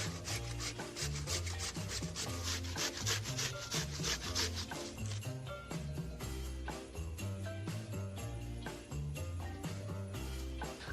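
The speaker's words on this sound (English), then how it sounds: "I have a box grater. We're going to be using the coarse holes." Potatoes for latkes scraped down the coarse holes of a box grater in quick, rhythmic rasping strokes, close and steady with no talking.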